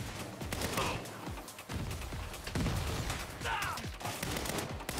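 Gunfire in the video game Saints Row 2, a dense run of rapid shots with a sharp burst starting partway through, continuing loudly throughout alongside other game sounds.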